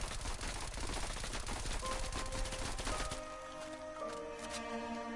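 Rapid automatic gunfire from a weapon in Call of Duty Cold War, a dense loud burst of shots for about three seconds, then fading into game ambience with tonal hums.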